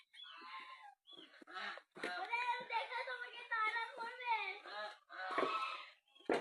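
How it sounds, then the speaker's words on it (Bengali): Loud, harsh honking and squawking from geese chasing a person, several bursts close by, with the person speaking in between. "রাজহাঁস আমাকে দেখলেই তারা করে"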